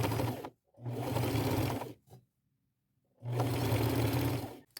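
Sewing machine running a straight stitch to attach lace along the neckline of an old shirt's collar, two long steady bursts of motor whir separated by a pause and a brief click, close and clear with no talk.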